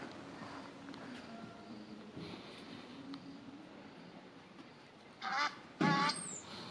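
Geese honking in two short loud bursts near the end, over steady outdoor background noise at a monkey rehabilitation site.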